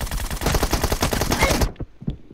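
Groza and M4 rifles firing in a shooter video game, rapid loud automatic bursts in quick rhythm for about a second and a half, then an abrupt stop followed by a few faint clicks.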